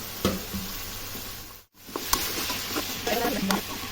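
Potato curry ingredients in a frying pan are stirred with a utensil, giving close scraping and shuffling amid a steady sizzle, broken by a brief lull midway before stirring and frying resume.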